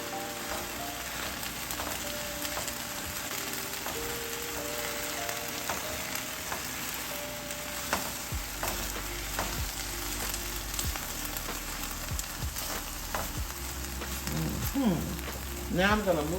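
Okra cooking down in a pan for shrimp and okra with sausage, a moderate steady sizzle with scattered small pops and occasional utensil knocks, plus faint background hum and a brief voice.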